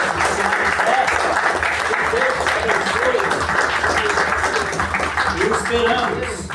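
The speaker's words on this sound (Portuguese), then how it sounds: "Eu peço uma salva de palmas" A crowd at a literary reading room in Itanhaém breaks into continuous applause, loud and steady throughout, with some voices murmuring beneath the clapping.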